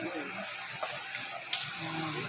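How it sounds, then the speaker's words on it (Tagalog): A shower runs with a steady, quiet hiss of falling water and a few faint splashes, with no one speaking. "Mag-shower muna. Ito ng shower."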